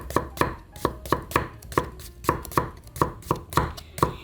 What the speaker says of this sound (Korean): 얄팍얄팍하게 이렇게 썰어주세요.